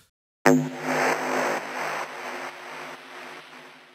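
A synth stab with bit crusher degradation and decimation starts abruptly and rings out into a gritty, distorted reverb tail that fades slowly over several seconds, alone with no voices.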